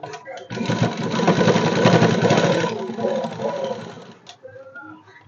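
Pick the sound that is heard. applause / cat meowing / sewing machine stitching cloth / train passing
sewing machine stitching cloth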